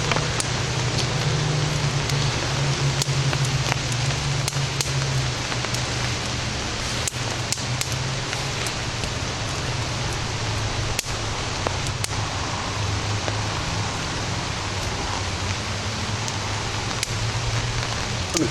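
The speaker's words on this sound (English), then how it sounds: "I'll just move the camera underneath the shelter as it is raining." Steady rain falls outdoors onto and around a shelter, a continuous close wash of drops with occasional sharper taps, and a low hum underneath throughout, with no talking.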